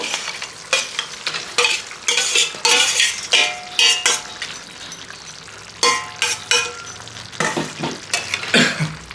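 Fried rohu fish heads stirred in a cooking pot with a metal utensil, giving repeated clinks and scrapes in uneven bursts over a soft background sizzle.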